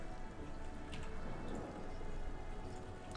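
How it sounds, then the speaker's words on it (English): Steady rain falls throughout in the survival sandbox game Ylands, a dense, even hiss of drops on surfaces with no voices, holding at a constant moderate level. "Oh, the rain's stopping."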